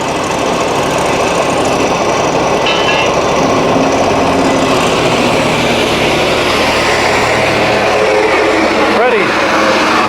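HotJet II 37HP fuel-injected trailer-mounted sewer jetter engine revving up, a loud steady mechanical roar filling the whole stretch, with a person talking over it.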